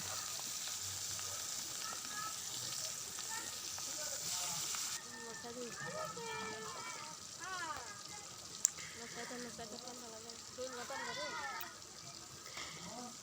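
Pangas fish frying a few pieces at a time in a small, old village wok gives a steady, close sizzle with stirring clinks, while a voice talks over it.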